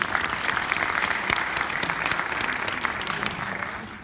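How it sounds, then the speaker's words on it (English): A seated audience at a community meeting about a maglev rail line gives a full round of applause, a steady wash of many hands clapping at moderate loudness throughout. "Please give him another round of applause."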